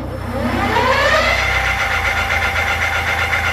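HAOQI Silver Antelope Pro 750W dual-battery electric cargo bike motor under twist throttle, a rising whine that climbs in pitch and then holds steady, loud and close with a constant low hum beneath.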